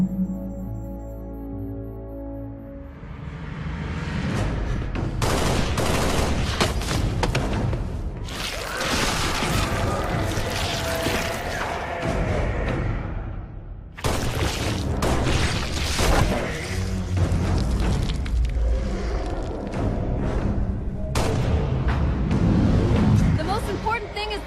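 A war scene fills with loud, dense gunfire and booming explosions in heavy, continuous waves with crashing debris, while voices shout over the din.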